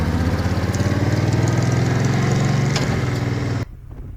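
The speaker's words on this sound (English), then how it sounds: "I don't know if you can hear the engine. It's sweet. She sounds sweet." A 22-year-old Suzuki Intruder 1500 LC big V-twin motorcycle engine idles with a steady, throbbing low-pitched pulse, loud and close, running alone before cutting off abruptly near the end.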